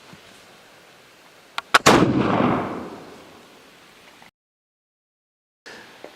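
A Lewis and Clark era flintlock rifle is cocked and fired outdoors: a couple of faint clicks, a sharp crack, then a loud booming blast that rolls away over a couple of seconds before silence.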